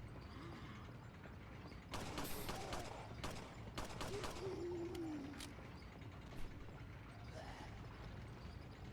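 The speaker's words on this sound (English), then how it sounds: "here we'll be able to see just how quickly our blacktail is able to fire" A Blacktail handgun in Resident Evil 4 fires in a quick string of sharp shots, fairly faint amid game ambience, with a brief creaking mechanical sound and a faint voice in the background.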